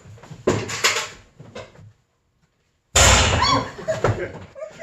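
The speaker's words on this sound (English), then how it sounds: "Hey, Penny, what do you think of these little firecrackers we just made?" Sharp crackling pops from small homemade firecracker strings burst in two quick clusters, close and loud, separated by a brief silence.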